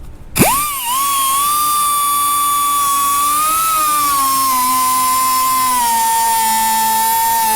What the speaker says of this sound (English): I'm gonna put some starting points with this cutoff wheel.